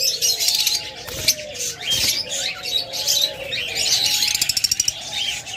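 Caged pet birds, diamond doves and cockatiels, chirping and whistling busily at close range, with sharp tweets, a rapid trill near the end and softer coos beneath.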